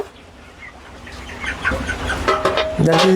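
Broiler chickens on a poultry farm cluck and chirp at close range in a rising jumble of calls that grows louder toward the end.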